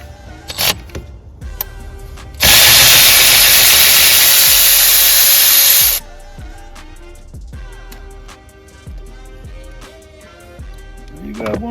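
A part being tightened during a Ford F150 tune-up: a few sharp metallic clicks and taps, then a steady loud whirring spell of about three seconds, followed by scattered light clicks with a low hum beneath.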